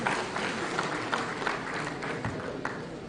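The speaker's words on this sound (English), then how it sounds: "Please give him another round of applause" Audience applause at a Nigerian consulting engineering association event, a steady mass of clapping that stays fairly even and moderately loud from start to finish, with a few sharper claps poking out.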